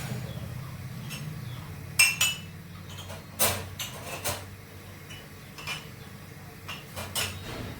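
A tea cup is washed among other dishes, with a handful of sharp clinks and knocks of crockery at irregular intervals over a quiet, muffled background.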